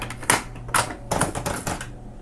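A cassette tape is loaded into a 1986 Aiwa AD-S40 stereo cassette deck, making several sharp plastic clacks and clicks spread over about two seconds, close and fairly clear over a low steady hum.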